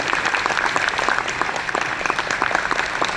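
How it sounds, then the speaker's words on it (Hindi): An audience at a Mahabharat-themed stage event breaks into sustained applause, a dense, steady patter of many hands clapping at moderate distance with no other sound. "जोरदार तालियां और अर्जुन की।"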